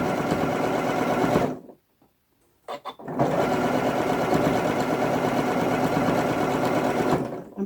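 A sewing machine stitches a seam on a garment, a loud, steady, rapid mechanical whir that stops briefly for about a second and a half, then resumes evenly and runs on close up.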